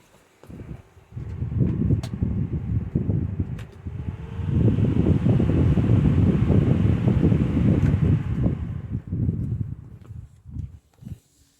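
A 2014 Lasko 16-inch table fan, model 2506, with a replaced motor, is switched off and winds down. A steady close airy rush fades out near the end, followed by a few soft knocks.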